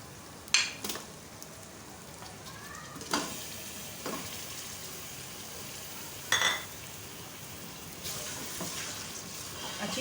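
Mutton sizzling and frying in a pot for aloo gosht, with garlic, ginger, cinnamon sticks, cumin, black cardamom and cloves, a steady hiss broken by several sharp scraping stirs of a utensil against the pot.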